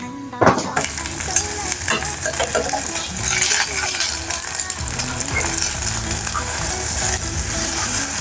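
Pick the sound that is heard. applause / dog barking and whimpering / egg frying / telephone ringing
egg frying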